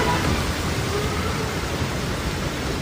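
Heavy rain pours over Metro Manila in a steady, dense broadband wash with no pauses, loud and continuous throughout.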